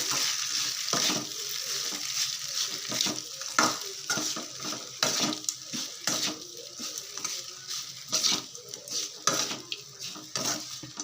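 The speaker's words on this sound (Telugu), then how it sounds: "ఇలా రైస్ వేసేసుకొని మొత్తము ఒకసారి బాగా ఇది కలిసే కలిసేలాగా కలుపుకుందాము" Rice being mixed in a hot frying pan, with a continuous close sizzle and a spatula scraping and stirring in repeated strokes, loud and without speech.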